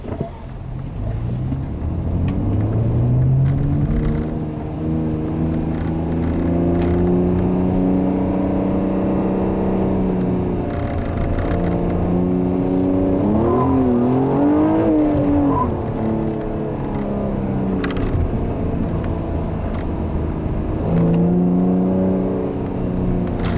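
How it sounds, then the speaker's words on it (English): A 2014 Honda Accord Coupe V6 with a 6-speed manual accelerates hard through the gears, its engine note rising loudly and dropping at each shift, with a clear rev climb in the middle and wind noise throughout. "this car will easily chirp into third gear."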